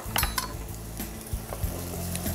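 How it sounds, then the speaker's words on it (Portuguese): Onion dropped into hot olive oil, sizzling under a few clinks of a pan and spoon being stirred, close and moderately loud. "Queremos a cebola para o azeite quando ele estiver quente. Podemos ouvir este barulho"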